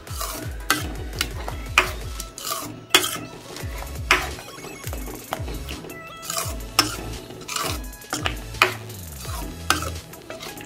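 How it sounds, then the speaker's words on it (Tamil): Uluthankali, a thick urad dal dough cooked with sesame oil, being stirred in a pan: repeated loud scraping and clanking of a ladle against metal in an uneven rhythm over a low sizzle. "இந்த நல்லெண்ணெய் ஊற்றி தான் கிண்டணும்"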